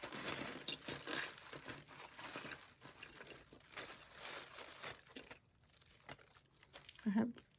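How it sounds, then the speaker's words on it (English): Small metal Eiffel Tower keychain jangling and clinking, with light rattling and handling noise through the short stretch, fairly close and soft. "a keychain for the Eiffel Tower."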